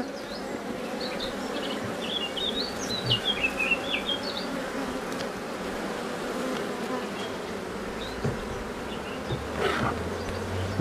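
Dense, steady buzzing of many honeybees close by at a hive from a weak colony, with faint bird chirps in the background.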